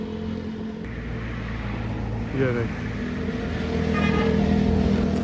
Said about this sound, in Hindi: एक और जो बाइक है वो आ गई है